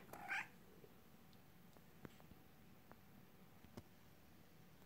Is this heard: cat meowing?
yes